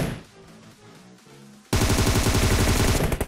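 PUBG Mobile gunfire, a soft spaced opening followed by a sudden loud burst of rapid automatic shots that keeps hammering without a break to the end.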